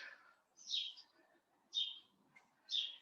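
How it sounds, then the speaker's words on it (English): Birds sing outdoors in fine weather, three bright separate chirping phrases spaced about a second apart, fairly faint against a quiet background with a soft low hum between calls. "just so we can hear the birds as well"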